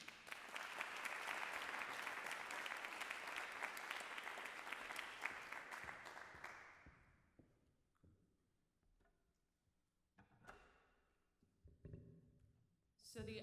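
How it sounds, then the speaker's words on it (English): At a spoken word and poetry night, an audience gives a full, loud round of applause that holds for several seconds, then tapers off, followed by quieter stretches with a voice speaking. "Ladies and gentlemen, please give her a round of applause."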